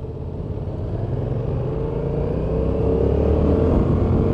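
A Yamaha XSR700 motorcycle engine braking as it rolls off the throttle, a steady low droning rumble that grows slightly louder over a few seconds, heard from the rider's position with wind noise and no talk.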